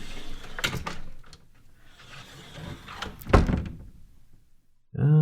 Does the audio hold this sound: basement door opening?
yes